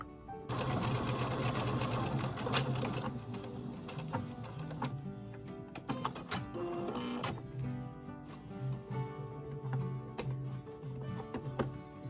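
A sewing machine stitches fabric for reusable paper towels, a steady close mechanical chatter with rapid ticking and a humming motor that keeps running with slight changes in speed, no one speaking.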